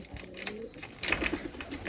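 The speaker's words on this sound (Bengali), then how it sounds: "এই দেখেন এখন আমার স্মার্ট স্মার্ট কবুতরের ফার্ম।" Pigeons coo softly inside a pigeon farm, a low murmur of several birds close by, with some rustling and background noise.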